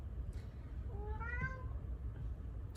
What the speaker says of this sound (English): So cute, my kitty saying hello.